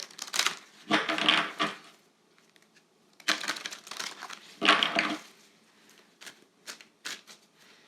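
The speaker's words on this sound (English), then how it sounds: "we're going to pull out your Rebel Oracle card for this year" An oracle card deck is handled and a card pulled out, giving bursts of papery shuffling and crinkling in several close, loud clusters separated by brief pauses, with no voices.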